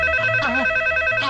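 A telephone rings in a movie scene with a bright, repeating electronic trill, loud and close, pulsing twice over a brief moment.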